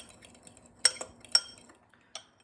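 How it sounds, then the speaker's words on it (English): A spoon stirs cereal muffin batter with milk and corn oil in a small dish, giving a few close, crisp clinks and scrapes against the container in otherwise quiet surroundings. "we're gonna add in 1 tablespoon of corn oil. Stir that around."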